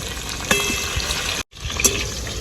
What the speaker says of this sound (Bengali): সে যে তেলটা বেঁচেছে আমি তার মধ্যে আদা কুচি রসুন কুচি দিয়ে দেব